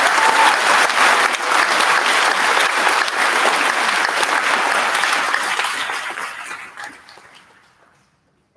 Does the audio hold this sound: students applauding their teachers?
yes